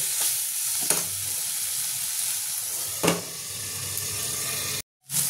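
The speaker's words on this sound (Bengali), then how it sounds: "এটাকে আমি একটু কষিয়ে নেব" Coriander, turmeric and chili powder spices fry in a pan for prawn malai curry, giving a steady close sizzle broken by a few sharp stirring scrapes, with no talk.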